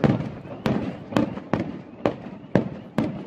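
Fireworks going off at a night beach festival for Santa Maria a Mare in Maiori, Italy: a steady run of sharp blasts, about one every half second, each followed by a rumbling tail, at a moderate distance.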